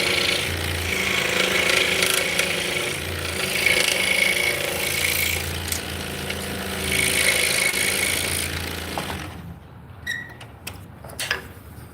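A scroll saw's reciprocating blade rasps through wood in a loud, steady up-and-down buzz, running in two long bursts before stopping abruptly, leaving a few faint knocks and clicks near the end.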